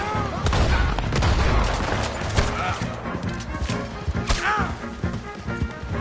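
Video game gunfire, rapid repeated shots and bursts with crashing impacts and hoofbeat-like clatter, loud and continuous, with voices shouting over the action.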